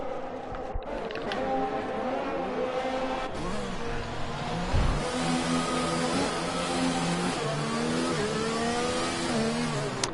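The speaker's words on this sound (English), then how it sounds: "That's horrible engine sound." A Formula 3 race car engine in a racing video game at the Netherlands round revs and whines through rising and falling gear shifts, loud and sustained, with no talking.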